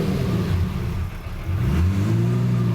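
A cheap Lamborghini idles steadily just after startup while still in limp mode, its engine note dipping to a low rumble and then creeping back up, loud and close with no talk.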